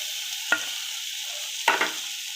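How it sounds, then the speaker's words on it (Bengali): Fried eggplant is stirred into masala sizzling in oil in a pan, giving a continuous frying hiss with two distinct scraping stir strokes, close and fairly quiet, with no voices. "তো আমি এখন এর মধ্যে যে ভেজে রাখা বেগুনগুলো লাস্টে এটা দিয়ে দেবো"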